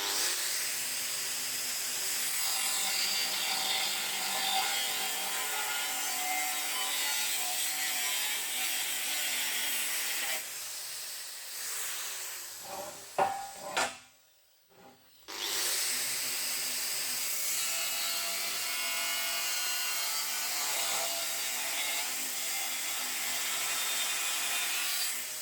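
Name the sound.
grinder with cut-off disc chopping off excess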